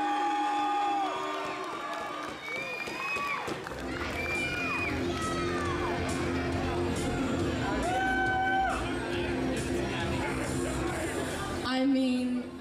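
An audience at a video game and pop culture expo cheers for the 2016 cosplay champion, with loud sustained crowd cheering, whoops and shouts filling the room, and a voice talking over the noise.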